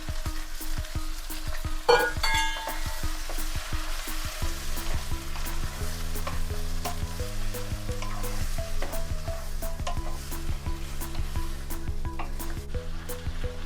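Five chopped tomatoes sizzling in a hot pan for tomato chutney, a steady bright frying hiss broken by a few stirring scrapes, close and loud, with no voices.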